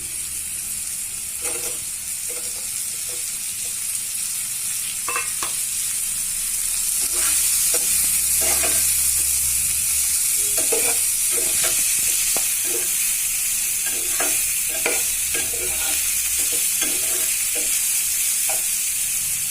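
Chicken meat frying with a steady loud sizzle in a pan for Assamese chicken masala Maggi noodles, with repeated scraping, clacking stirs throughout.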